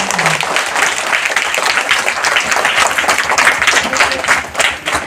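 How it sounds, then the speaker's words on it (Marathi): A crowd of schoolchildren and adults claps together in steady, close applause to welcome a guest at a school exhibition, a dense run of hand claps lasting several seconds with a voice briefly heard at the start. "सर्वप्रथम सगळ्यांनी टाळ्या वाजवून त्यांचं स्वागत करूया"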